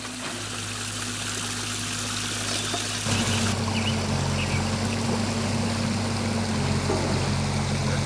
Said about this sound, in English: this is like a babbling brook because it's kind of falling straight into the water